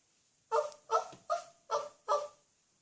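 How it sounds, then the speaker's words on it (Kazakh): A dog barks five times in a steady, evenly spaced series, each bark sharp and clear against near silence, moderately close. "Түнде ит үрді."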